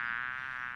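Near a garden, a single bee gives a close, steady, faint buzz that drones on continuously without breaks.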